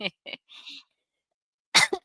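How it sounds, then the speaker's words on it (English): Two short, sharp coughs up close, followed by a louder burst of harsh coughing with throat clearing after a pause. "I shouldn't be coughing into my hands"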